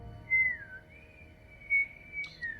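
A man whistling a wavering, sliding tune in short phrases, clear and fairly close against a quiet indoor background.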